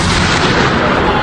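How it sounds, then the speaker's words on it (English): Fireworks hurled at law enforcement during a street protest, a dense, continuous roar of crackling blasts and bangs filling the scene, loud and close with no clear gaps. "Instead of throwing fireworks at law enforcement"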